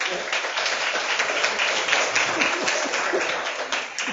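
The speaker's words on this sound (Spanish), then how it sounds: "con un fuerte aplauso" Steady, dense audience applause fills a university hall at UPR Humacao, welcoming the head of the Humanities Department as a lecture opens, with many hands clapping continuously and a faint murmur of voices underneath.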